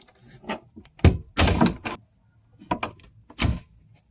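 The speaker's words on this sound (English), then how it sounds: "all we're going to do to take those out is grab back here and just break the pins." Plastic pins snapped off a BMW door lock actuator inside a car door, giving a run of close, loud cracking, rattling and scraping bursts with brief pauses between them.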